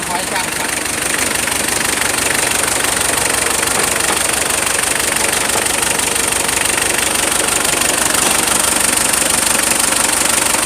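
A used car's engine idles steadily with a dense, even running tone and faint knocking texture. It is loud and close, with no break throughout.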